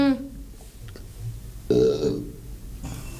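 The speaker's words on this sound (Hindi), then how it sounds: "कुछ खा के भर के आए हो जब तो डकार ले रहे हो" A man lets out a burp after a full meal, one short belch early on and a louder, rougher one near the middle, close up, with quiet murmuring speech and room noise around it.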